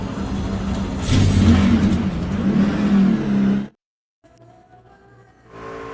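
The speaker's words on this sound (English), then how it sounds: "So we'll head out now for practice the first time we get into this SKF Ford F-150 machine" A Ford F-150 race truck engine in the NASCAR 25 video game revs loudly and steadily for nearly four seconds, cuts to near silence, then a quieter engine tone returns and builds toward the end.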